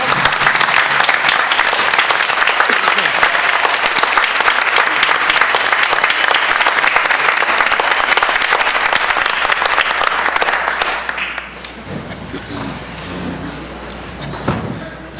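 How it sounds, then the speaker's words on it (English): An audience at a school board meeting applauds a student of the month with loud, dense clapping that goes on steadily before fading out into quieter room noise and a few scattered knocks. "let's give Jaden a big round of applause for obtaining this great honor"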